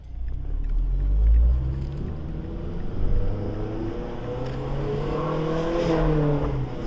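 A Mazdaspeed 3 with a CPE catted downpipe and Magnaflow catback exhaust accelerates from first gear, giving a deep, loud rumbling exhaust note that climbs through rising revs with a brief dip around a shift.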